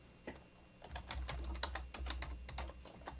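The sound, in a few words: typing a sheet name on a computer keyboard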